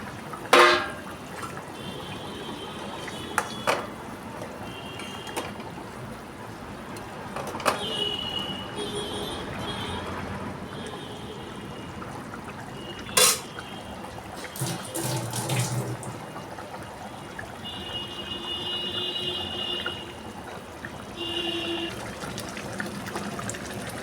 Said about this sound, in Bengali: দেখো, এবার আমি মাছগুলো দিয়ে দিচ্ছি। ঝোল ফুটে উঠেছে।